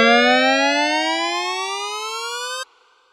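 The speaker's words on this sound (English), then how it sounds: "You can hear how the pitch rises over time due to the slow attack pitch envelope that we set up" A bright, buzzy synthesizer tone with a slow-attack pitch envelope that glides steadily upward in pitch for a few seconds, then cuts off abruptly, leaving a faint tail.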